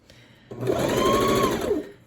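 A sewing machine stitches pin tucks in fabric, starting abruptly and running as one smooth, loud, close whir for about a second and a half before stopping.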